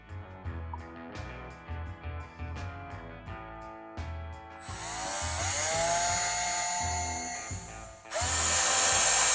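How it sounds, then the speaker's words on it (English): A handheld power drill pre-drills screw holes in laminated bamboo, first a series of short revving bursts, then a sustained loud whine as the bit cuts through, stopping briefly before a final strong burst. "I'm going to pre-drill my holes first before I set my screws in."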